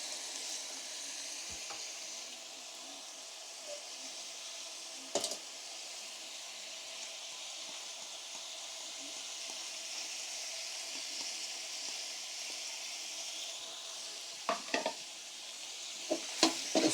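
Tomato paste frying with spices in a pot for beef yakhni pulao, producing a soft, steady sizzle under a few sharp spoon knocks and scrapes, the loudest toward the end.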